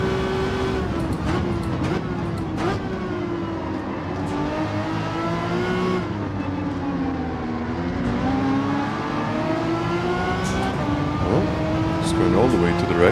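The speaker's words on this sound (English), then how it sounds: "I need to rev it up more." A race car engine in Gran Turismo 7 hums and revs continuously through a race at Trial Mountain, pitch rising and falling with throttle, under someone talking.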